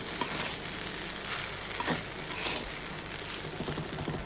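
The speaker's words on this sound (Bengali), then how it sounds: "এখন আর 2-1 মিনিট নেড়ে চেড়েই নামিয়ে ফেলবো" Fried rice made from leftover refrigerated rice being stirred in a hot pan, a quiet steady sizzle with light scraping strokes of the spatula every second or so, close by and alone.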